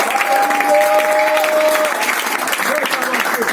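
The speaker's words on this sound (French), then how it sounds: "Acclamons très fort," A church congregation claps loudly and continuously during a French-language worship service, the steady applause mixed with crowd voices and a sustained sung or shouted tone running through it.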